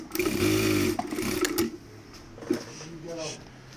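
A beltless, oil-free automatic straight-stitch sewing machine runs in a quick steady whir that stops and starts, with a voice talking over it.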